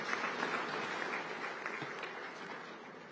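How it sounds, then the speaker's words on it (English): Conference audience applauding in a large hall at a regional heads-of-state summit, a soft, continuous wash of clapping that fades slightly toward the end. "Another round of applause, ladies and gentlemen."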